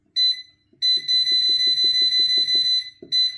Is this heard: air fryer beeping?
yes